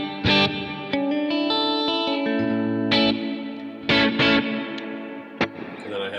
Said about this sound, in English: So on here I have like my washy verb setting.